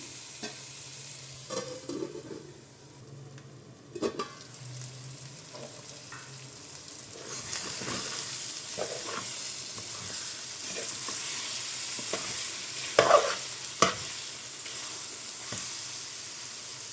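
A pan of Bommidayila Pulusu fish curry simmering on the stove gives off a steady, soft sizzle and bubbling hiss, with occasional stirring scrapes and clinks close at hand over a long stretch.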